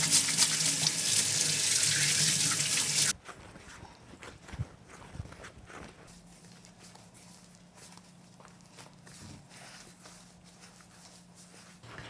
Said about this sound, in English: And then time to wash your hands very nice, thoroughly.